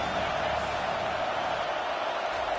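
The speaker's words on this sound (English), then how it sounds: "This crowd bringing the energy and noise early." A stadium crowd in a college football video game involving SMU roars in a steady, dense wash of cheering and noise that fills the whole stretch without letting up.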